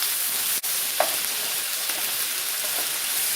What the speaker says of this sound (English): Cook them until the onion is soft.